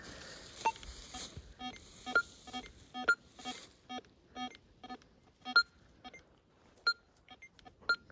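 Metal detector responding to a small coin target with a series of short, evenly spaced electronic beeps, about a dozen quiet tones over several seconds against faint background.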